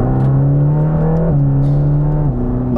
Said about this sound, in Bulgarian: чувате и двигателя, който сега ще мина на по-шумния вариант